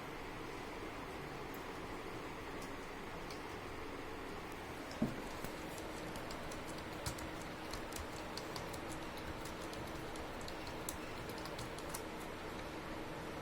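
Quiet, steady computer keyboard typing while data is entered into a spreadsheet, with faint scattered key clicks over a low hiss and one slightly louder tap.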